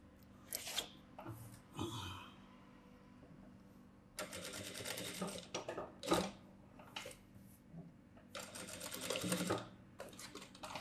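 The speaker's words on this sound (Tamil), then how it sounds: "அந்த கழுத்தை தைச்சிட்டேன்." A tailor's sewing machine stitches the back neck of a boat-neck blouse in several short rapid chattering runs, separated by pauses filled with quiet handling and rustling, with no talk.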